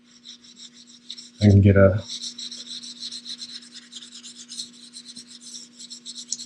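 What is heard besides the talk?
rubbing silver leaf down into varnish with spinning tool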